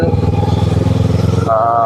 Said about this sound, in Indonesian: Knalpot saya pasang model yang asli, awalnya dengan suara yang masih standar